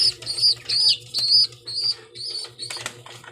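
Racing pigeons being hand-fed during training, heard as repeated high chirping squeaks in short bursts over a low steady hum, fairly close and moderately loud.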